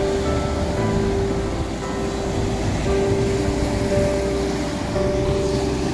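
Sea waves on a beach make a steady rushing roar that fills the whole moment without clear breaks, with a faint thin tone running through it.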